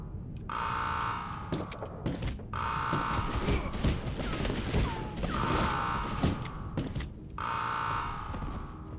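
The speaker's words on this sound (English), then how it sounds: "I thought I turned off the alarm" An alarm tone sounds in repeated loud bursts over a busy game scene on a wild party boat in GTA Vice City, mixed with gunfire-like bangs and clatter.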